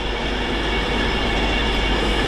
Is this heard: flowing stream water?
no